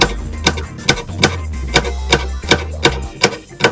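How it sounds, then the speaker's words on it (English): Knife slicing destemmed garlic for a bell pepper and shimeji side dish: about ten crisp, evenly spaced chops on a cutting board, close and distinct, with a low hum underneath and no talking. "Remove the stem and"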